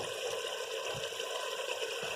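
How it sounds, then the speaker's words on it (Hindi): Water from boiled chickpeas added to tomatoes frying in a pan for dhaba-style chole, producing a steady, close hiss and sizzle that continues evenly without pause. "तो हम इसमें थोड़ा पानी डाल के भुनाई करते रहेंगे।"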